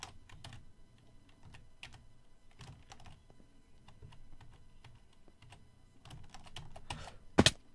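Computer keyboard keys are pressed in an irregular stream of soft clicks during a Minecraft parkour session, ending in one sharp, louder key strike.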